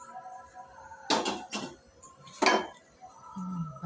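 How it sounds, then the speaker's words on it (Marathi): A metal cooking pot for kadhi being set down in a home kitchen: a few close clanks and clinks of metal against metal over about two seconds, then a quieter scrape, with faint room noise. "पातेलं ठेवलं."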